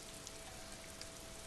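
Steady rain patters across surfaces in a Disco Elysium game scene, an even, faint wash of drops with no voices.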